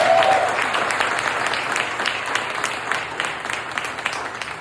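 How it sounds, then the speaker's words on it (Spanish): Church congregation applauding, a dense burst of clapping that starts strong and gradually thins and fades over a few seconds, with no voices on top. "Un aplauso, por favor."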